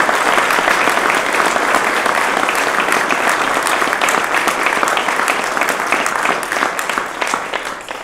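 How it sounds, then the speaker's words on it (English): Steady, dense applause from an audience fills a badge pinning ceremony for a police department, loud and sustained throughout, tapering slightly at the end. "Let's give him a round of applause."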